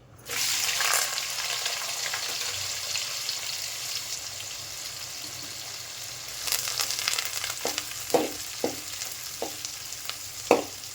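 About 200 grams of onion with two green chillies and curry leaves frying in hot oil, a loud sudden sizzle that settles into a steady crackle, with a few sharp stirring knocks near the end.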